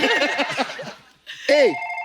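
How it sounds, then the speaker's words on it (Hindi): A telephone ringtone rings out on a television comedy talk show, following a stretch of talk and laughter, then sounding loud and clear on its own with steady, ringing tones. "सर, मेरे को फोन आया, मैं उठा सकते हैं?"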